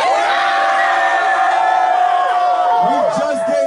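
A live-show crowd cheers, whoops and yells loudly and continuously, a dense roar with a sustained high shout running through it and a few rising calls near the end.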